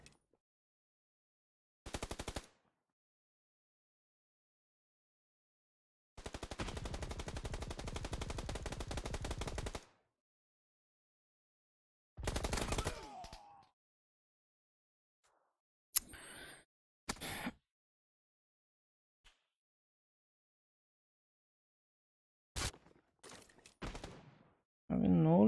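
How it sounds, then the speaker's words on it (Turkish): Bursts of gunfire in a live-streamed online shooter game, fired from behind a wall, coming in separate loud clusters with long silent gaps and a few short sharp shots, plus some brief voice. "Abi duvarın arkasından adam vuruyor ya."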